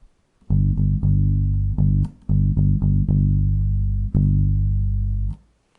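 Low, sustained bass guitar notes in a sparse pre-chorus rhythm from a worship song, with sharp plucked attacks separated by short gaps, played alone and fairly loud.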